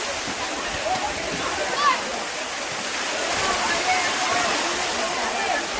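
A powerful waterfall roars continuously and close by, with water crashing down onto people standing beneath it. Its loud, even rush fills the scene while voices call out over it.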